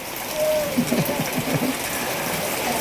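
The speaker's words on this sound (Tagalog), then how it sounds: "Kagabi pa ito nagsimula yung ulan. Hanggang ngayon ay ulan pa rin." Steady rain falls as a constant, dense hiss, with a few faint tapping and creaking sounds close by.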